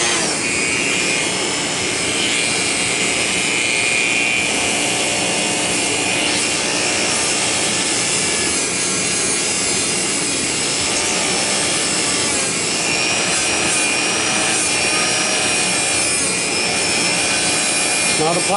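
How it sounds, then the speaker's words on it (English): A Dremel rotary tool polishes a .22 revolver with a continuous high whine and gritty grinding, steady and close for the whole stretch, with no pauses. "Crank up the old Dremel and"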